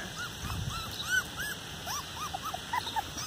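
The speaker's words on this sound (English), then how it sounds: "She's our Rottweiler mix." A Rottweiler mix dog whimpers in a series of thin, high, rising whines, several short cries spread across the moment, fairly close over a quiet room hiss.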